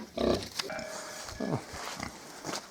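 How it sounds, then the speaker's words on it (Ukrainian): Piglets on a small pig farm grunt and snuffle up close in short bursts while feeding, with occasional soft squeals and faint background noise. "Нехай поросятка їдять."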